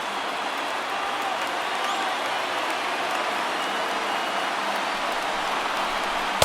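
A baseball stadium crowd of over 39,000 on their feet at a Dodgers–Giants game roars in a dense, steady wash of cheering, loud and continuous throughout.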